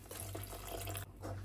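Water pours steadily in a soft, close trickle into a fenugreek and kodo millet porridge mixture, broken by a brief pause before resuming.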